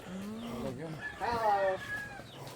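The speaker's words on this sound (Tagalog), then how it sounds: "Ayun mga fighting chickens." Fighting chickens on a farm in the Philippines, with clucking and a hoarse crow up close, and outdoor noise behind them.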